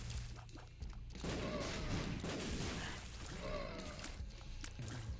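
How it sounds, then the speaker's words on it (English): Explosions in the video game Dead Cells, a cluster of crunchy blasts and crackling debris bursts layered over game audio, dense and fairly loud for several seconds. "Explosions, though, are being kind of a problem."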